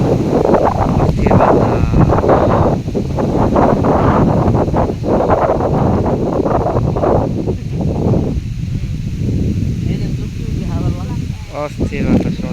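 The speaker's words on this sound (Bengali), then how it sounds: "তো দেখেন এখন অস্থির বাতাস" Strong, gusty wind sweeps across a rural farm field, buffeting the microphone with loud, continuous roaring rumbles that swell and ease throughout, with no clear speech.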